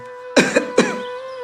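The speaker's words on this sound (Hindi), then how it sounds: "कितनी खांसी हो गई है तुझे?" Two quick, harsh coughs close by, the second following shortly after the first, over a faint steady hum.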